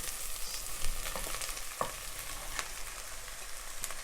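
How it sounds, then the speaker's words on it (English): Onions and carrots sautéing together in a pan for carrot rice, with a bright continuous sizzle and a few soft utensil taps and scrapes as they are stirred, close and fairly quiet. "I'm just going to saute this together"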